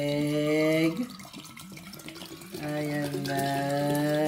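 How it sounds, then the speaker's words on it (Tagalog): Water is poured into a bottle for a pen-in-the-bottle game, a close, steady splashing stream with a rising tone as it fills, interrupted briefly midway, with voices nearby. "Lagyan mo ng tubig."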